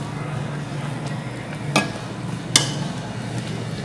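A spoon stirs simmering milk for rabri, giving a soft, continuous bubbling hiss broken by two distinct scrapes of the spoon against the pan.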